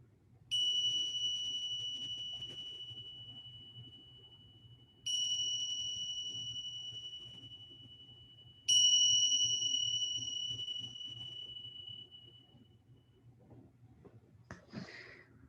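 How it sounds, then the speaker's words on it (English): A meditation bell rings three separate times at the close of a guided session, each clear, bright strike decaying slowly into near silence, with a faint soft knock at the very end. "You'll hear the sound of a bell. Go ahead and listen to its sound."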